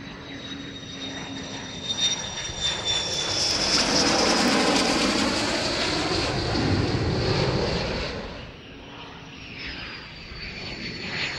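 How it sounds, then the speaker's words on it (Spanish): NATO fighter jets, F-15s, Eurofighters and Hornets, fly over an air base in the Canaries during air combat exercises, a loud roaring engine sweep that swells to a peak and then fades as they pass. "Los aviones normalmente sobrevolaban la base en formaciones de 2 o 4, para luego romper sobre esta y proceder a tomar tierra."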